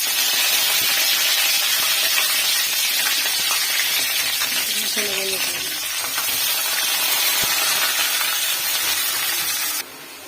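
Curry leaves sizzle in hot oil with a loud, close, continuous spitting hiss that keeps up throughout and drops off abruptly at the very end.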